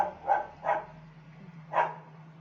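A dog barks three times, two quick close barks and then one more after a short pause, clear over a low steady hum in a quiet room.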